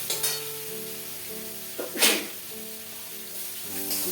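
Masala spice paste frying in oil in a pan for a home-style Bengali fish curry, a quiet sizzle broken by a few short crackling bursts of spattering oil.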